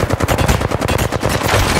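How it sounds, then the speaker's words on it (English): Rapid automatic gunfire from the video game Fuse rattles loud and continuous, dense overlapping shots and bursts filling the short stretch with no voices over it. "Getting shot at. Firing. Being shot at."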